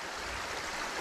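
Gator Creek water rushes through a beaver dam area, a dense, steady roar of flowing water close by for a brief moment.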